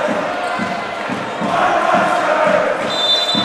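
Crowd at a Thomson Trophy Division I grand final singing and cheering steadily in the background, a sustained roar with a rhythmic chant pulsing through it, rising slightly midway.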